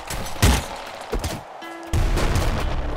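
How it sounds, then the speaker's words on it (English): Gunfire in the video game Nuclear Throne: a few loud, punchy shots in quick bursts followed by a sustained crackling barrage, with a brief electronic tone in between. "but I'm going to have to just shoot them"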